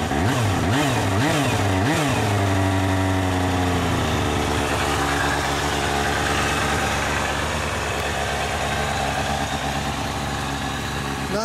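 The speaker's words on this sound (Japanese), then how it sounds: "エンジン音聞かせてもらえる？" A Kawasaki ZXR250 motorcycle engine, a 1992 model, revs a few times up close, then settles into a steady, loud idle that keeps running alone.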